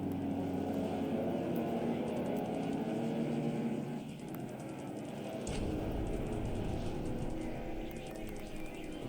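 Aircraft engine drone from a torpedo bomber strike in the War in the Pacific strategy game, a steady mid-level rumble that drops briefly then resumes, with no talking.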